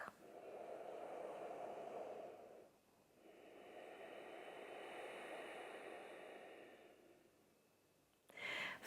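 Slow, audible ujjayi breaths through a narrowed throat, as used in Ashtanga yoga: a long soft hissing inhale and exhale, repeated twice, close and steady, with no talking.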